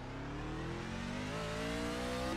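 A race car engine in the iRacing sim holds a steady, rising drone as it pulls through a lap, the pitch climbing smoothly under acceleration with a brief louder bump at the very end.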